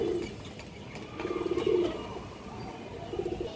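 A large pair of green-necked pigeons makes soft, low cooing in a few short rolling phrases, against steady background noise.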